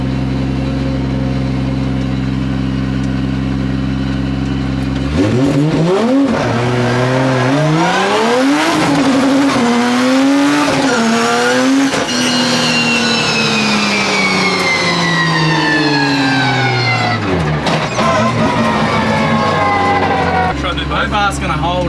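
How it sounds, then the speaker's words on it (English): A 2JZ-powered Nissan S15 on a race track idles low, then accelerates hard in a loud close pull, its engine note sweeping upward through repeated gear changes and dropping between shifts over about fifteen seconds. "we'll see if we can do a pull to the start line as fast as we can"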